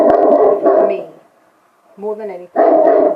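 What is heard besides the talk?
dog barking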